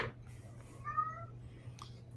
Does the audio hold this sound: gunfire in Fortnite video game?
no